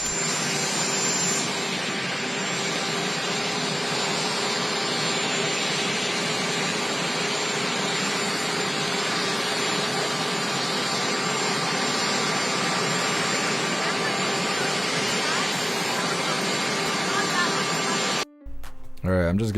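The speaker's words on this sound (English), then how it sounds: "Sitting here listening to the plane, the sound of the plane." An airplane flies overhead in a steady, loud, broadband roar that holds for nearly twenty seconds before cutting off abruptly.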